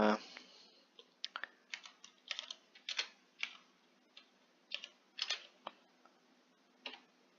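Keys on a computer keyboard clack as a command is typed, a quiet, close series of irregular taps spread across several seconds with short pauses between bursts.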